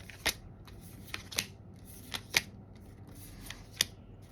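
Tarot cards are shuffled and drawn by hand, producing a series of sharp close snaps and flicks spaced irregularly over a quiet background.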